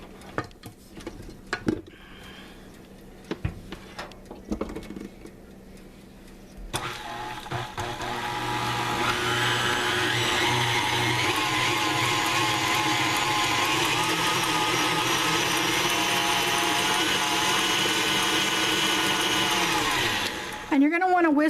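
An electric whisk starts up after a few knocks and brief talk, then runs steadily and loudly for about fourteen seconds, mixing icebox cake filling for a pink flamingo cake, before cutting off.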